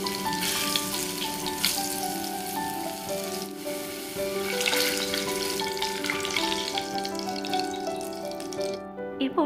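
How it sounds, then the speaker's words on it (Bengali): Potatoes coated in salt and turmeric fry in hot oil with a loud, steady, close sizzle that continues without a break and cuts off abruptly at the end, with no voices. "এরপর ওই তেলের মধ্যেই নুন হলুদ মাখানো আলুগুলো দিয়ে দিলাম"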